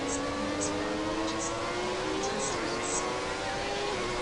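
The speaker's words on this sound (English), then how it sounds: "you're drowned out by a lot of engines" Racing car engines in a Formula 1 video game, a steady high-pitched whine of several cars with slowly rising pitch, loud and continuous, with a voice talking over it.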